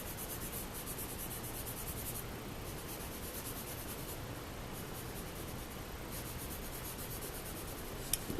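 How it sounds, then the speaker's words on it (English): A charcoal pencil scratches steadily across paper while shading a drawing of a cube. The dry rasping strokes are continuous and close, with brief pauses between passes. "I'm also going to now switch to my charcoal pencil."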